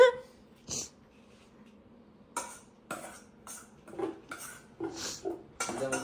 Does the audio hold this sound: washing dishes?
yes